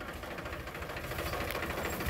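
Loud, close diesel engine of a Powertrac 439 tractor chugging with a steady rapid knocking rhythm, heard alone without speech.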